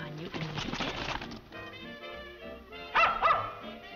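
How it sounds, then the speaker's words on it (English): A dog in a 1938 colorized comedy film gives a few barks and whines amid overlapping dialogue, with a sharper pair of yelps standing out near the end. "There's a good dog."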